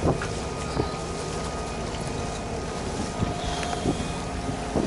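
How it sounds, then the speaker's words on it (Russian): Strong wind roars steadily at sea during a storm with rain aboard a boat, a loud continuous rush of gusts and water noise lasting throughout without speech. "Дует."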